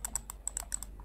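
A Huawei AF30 Bluetooth mouse clicks sharply and audibly, with about seven quick taps spread unevenly over a second, close and fairly loud against a quiet background.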